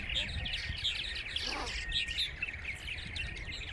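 Many purple martins chirp and chatter continuously around a busy nesting house outdoors, a dense overlapping chorus of calls from close and farther birds.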